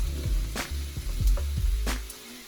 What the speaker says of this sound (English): You want to just get a nice quick sizzle on these.